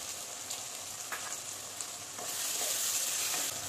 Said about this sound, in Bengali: এখন আমি এর মধ্যে একটু টমেটো কুচি অ্যাড করে দেবো